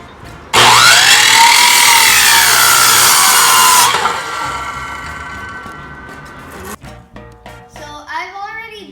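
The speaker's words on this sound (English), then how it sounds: "Cut the 8-foot long 2x6 and 2x10s into 2 4-foot sections." Power saw cutting 2x6 and 2x10 lumber for a raised garden bed: a loud, close whining cut that starts abruptly and holds for about three seconds, then spins down, followed by quieter handling noises and a voice.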